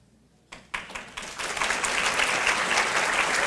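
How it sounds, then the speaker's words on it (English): A crowd at a Teachers of the Year ceremony in Contra Costa County breaks into applause after a brief quiet moment, many hands clapping in a dense, steady roar that builds and holds. "could you please stand so we could give you a round of applause"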